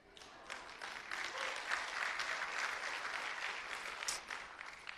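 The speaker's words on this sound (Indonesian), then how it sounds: "Jangan cuma tepuk tangan." A church congregation breaks into applause during a sermon, a soft, distant wash of many hands clapping that swells after a moment and holds steady for several seconds.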